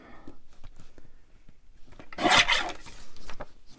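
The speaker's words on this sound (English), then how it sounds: "You can trim the edge a touch." Trimming the edge of a handmade junk journal notebook made from collaged papers gives a short, bright rasping cut, close and loud, after a few soft taps and rustles.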